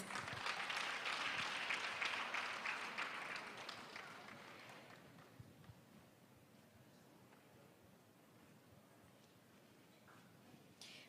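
Crowd at a World AIDS Day celebration claps loudly for several seconds, the applause fading out to a quiet room with only faint rustling afterward.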